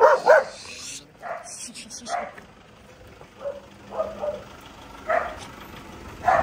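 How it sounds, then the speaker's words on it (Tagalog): A Belgian Malinois barks repeatedly in sharp, scattered bursts, moderately close, with a person talking in between the barks. "Tahol ng tahol tong aso na to."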